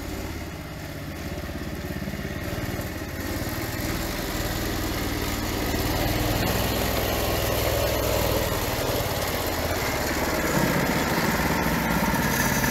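A homemade four-wheeled motorized cart runs its engine in a continuous, loud, rough putter that holds steady and close for the whole stretch, with no talking.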